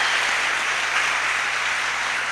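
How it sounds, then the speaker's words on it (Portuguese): A church congregation applauding together, a steady dense wash of clapping that holds at even loudness throughout with no clear pauses or voices. "Quem está comigo começa a aplaudir o Senhor em nome de Jesus."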